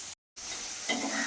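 Spinach pakoda frying in hot oil for crispy palak pakodi, a steady bright sizzle broken by a brief silent gap, then resuming a little louder and fuller near the end.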